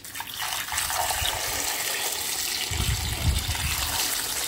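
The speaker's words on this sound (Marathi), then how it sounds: "आता हे पाणी ह्याच्यामध्ये घालून देते।" Plain tap water poured over rock-hard frozen gooseberries (amla) in a container, a steady close splashing and trickling stream that runs the whole time with no voices.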